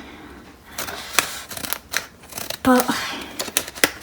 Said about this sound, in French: Alors je prends mes ciseaux hein, et on y va.